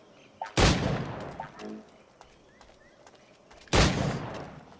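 Gunfire in Assassin's Creed 4 Black Flag, with two loud, close gunshots several seconds apart, each booming and trailing off, and faint clicks and birdsong in between.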